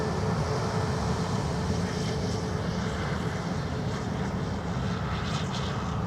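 A Ryanair airliner departs Dublin Airport for London Luton, its jet engines a continuous broad roar heard from a distance, steady and loud throughout with no voices over it.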